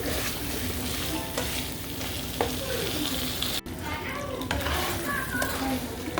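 Pieces of fried chicken stir-fried in a pan for black pepper chicken, a dense continuous sizzle with scraping, clinking stirs of a utensil and a voice speaking faintly in the background.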